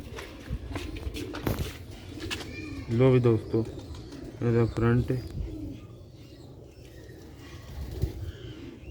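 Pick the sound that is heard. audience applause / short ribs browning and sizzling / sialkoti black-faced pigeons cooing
sialkoti black-faced pigeons cooing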